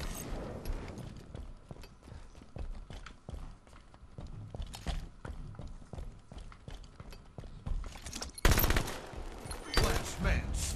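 Battle rifle gunfire in the Halo 5 Guardians video game, Breakout multiplayer mode, comes as quick, sharp bursts of shots repeating through the clip, louder and denser near the end, with faint voices underneath.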